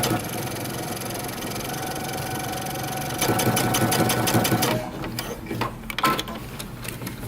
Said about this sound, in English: we're going to top stitch close to the edge